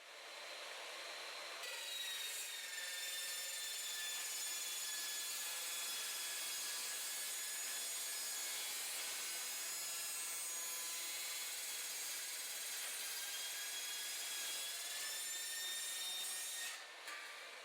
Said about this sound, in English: Here is an example of a supplied bundle of 10 cut with the material oriented properly in the saw.